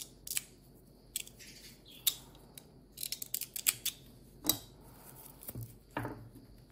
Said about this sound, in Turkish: Şimdi burada artık ipimi kesiyorum.